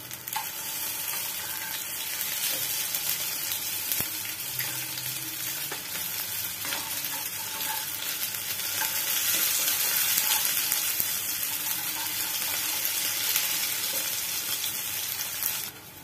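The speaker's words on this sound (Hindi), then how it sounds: "पकौड़े के नीचे जब ब्राउन हो जाए फिर मैं इसे पलटूंगी।" Arvi leaf pakoras sizzle and crackle in hot oil as they fry and are turned over, a continuous, fairly soft bubbling hiss with occasional faint scrapes, without any talking.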